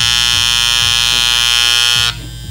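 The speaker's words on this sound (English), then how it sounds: "It just sounds terrible because you're just basically loosening up the adjusting knob." Andis Masters hair clippers, their adjusting knob turned counterclockwise, hum loudly with a rattling, pulsing buzz. The motor stops abruptly after about two seconds.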